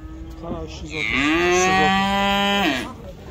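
At a livestock market, one calf gives a long, loud, nasal moo lasting nearly two seconds, close by and alone against quiet background noise.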